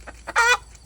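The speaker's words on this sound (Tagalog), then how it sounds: "inahin na nangingitlog na." A laying hen gives a few short clucks, then one longer, louder squawking cluck, close up with quiet surroundings.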